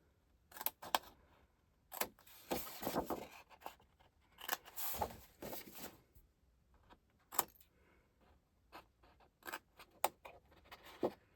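Scissors trim the corners of a handmade paper advent calendar, giving a series of soft snips and paper rustles at close range. The sounds are quiet and irregular, with no voice.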